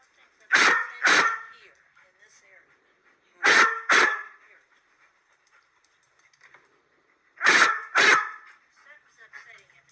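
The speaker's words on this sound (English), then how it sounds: "Sorry about the dogs" Dogs bark in three short bursts of paired barks spaced a few seconds apart, fairly close and sharp, with quiet gaps and faint background sounds between them.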